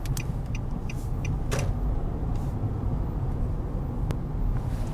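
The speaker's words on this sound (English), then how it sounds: "how would you design these freeways to incorporate this kind of traffic?" Car traffic on a freeway drones with a steady low road rumble, while a few brief clicks and rattles come from inside a vehicle and no one speaks.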